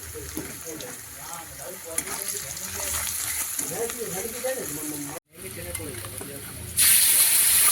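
Onions sizzle steadily in hot oil with salt and turmeric, a hissing fry heard under a person talking, broken by a brief drop near the end.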